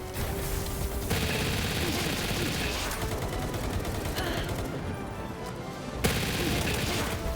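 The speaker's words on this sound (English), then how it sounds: "What are you using? An assault rifle?" Rapid assault rifle fire in the Palworld video game, dense bursts of shots that pause briefly and resume, loud and close in a busy game soundscape.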